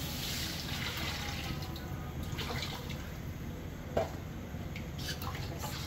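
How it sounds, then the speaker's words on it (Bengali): Water splashes and trickles steadily into cooked spice masala for a chicken curry, a soft continuous wet pour with one brief louder splash near the end. "মশলাটা কষানো হয়ে গেছে, এখন জল দিয়ে দিলাম।"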